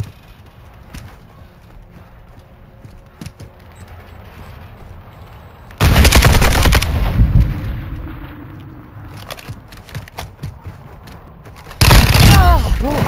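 Gunfire in a first-person shooter private match, loud bursts of shots and blasts arriving in two heavy clusters over quieter game noise, with someone talking excitedly throughout.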